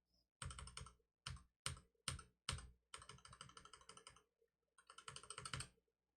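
Close, crisp typing on a keyboard fitted with Kailh Cocoa Pink Box V2 switches: short bursts of keystrokes, then a steadier run of rapid clacks separated by brief pauses, with no talking.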